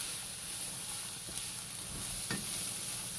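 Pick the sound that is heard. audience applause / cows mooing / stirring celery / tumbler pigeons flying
stirring celery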